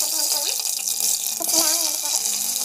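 Mustard and cumin seeds go into hot oil in a cooker, making a loud, continuous sizzling hiss with crackles and some burbling tones that swell briefly midway.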